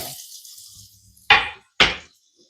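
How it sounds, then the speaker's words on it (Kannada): Potato pieces are tipped into a frying pan while cooking rasavangi, giving two sharp, close clattering hits a half-second apart, after a soft sizzle fades out, with no talking. "ಇವಾಗ ಪೊಟ್ಯಾಟೋನ ಇದರಲ್ಲಿ ಹಾಕೊಳ್ಳೋಣ"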